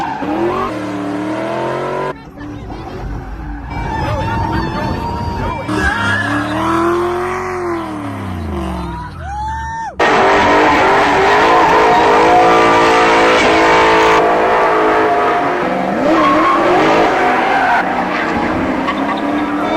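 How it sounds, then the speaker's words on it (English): A V8-swapped Tesla drifts on a track, its engine revving hard while the tires squeal in long wavering wails, loud and close throughout, with the pitch rising and falling as it slides. "I even tried to do some drifting."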